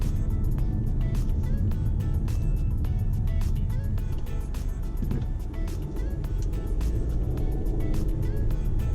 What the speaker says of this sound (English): the engine notes in the exhaust becomes a little more pronounced